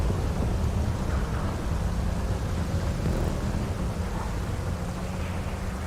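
Loud thunder rumbling in GTA 5, a continuous deep roll lasting several seconds with steady heavy low-end energy and a hiss like rain or wind above it, no voices.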